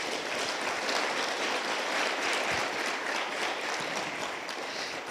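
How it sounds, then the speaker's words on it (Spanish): Sustained applause from a church congregation clapping for Jesus during a sermon, a dense, steady wash of many hands filling the room for about five seconds with no talk. "Dale palmas a Jesús."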